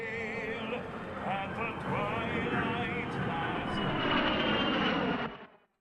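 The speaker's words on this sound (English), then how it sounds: "the beautiful flyover that we had at the White House featuring the B-2 bomber" A B-2 bomber flanked by F-35 jets passes over the White House, a steady loud roaring engine drone that swells and then cuts off abruptly near the end, with a voice talking faintly underneath.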